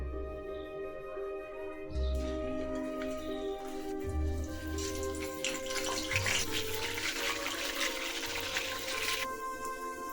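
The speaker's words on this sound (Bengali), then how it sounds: "এখন আমি হাফ সিদ্ধ করা আলুগুলো আমি সুন্দর করে ভেজে নিয়ে নেব" Half-boiled potatoes fry in heated soybean oil, a steady rain-like crackling sizzle that swells after the first couple of seconds and holds close and fairly loud, with no voices.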